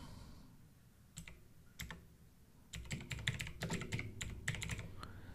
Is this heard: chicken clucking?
no